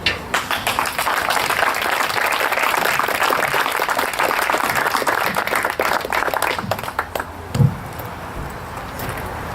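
An outdoor crowd at a dedication of B&O locomotive No. 8408 on the Wilmington & Western railroad applauds, a dense sustained clapping that thins out near the end.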